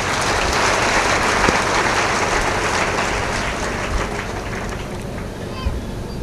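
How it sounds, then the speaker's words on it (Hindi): A large crowd at a Hindu spiritual gathering at the Ujjain Kumbh applauds in a dense, sustained wash of clapping that stays loud throughout and fades slightly near the end, with a voice speaking over it. "और एक बार ताली उनके लिए बजाओ"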